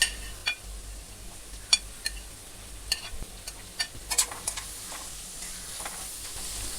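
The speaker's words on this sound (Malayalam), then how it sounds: "ഇതിനകത്ത് സവാളയും ചെറിയ ഉള്ളി അരിഞ്ഞതും കൂടെ ഇതിലേക്ക് ഇട്ട് കൊടുക്കാം." Sliced onions and small shallots fry in oil in a pan for a Kerala crab roast, giving a steady soft sizzle with scattered sharp clicks and scrapes of stirring.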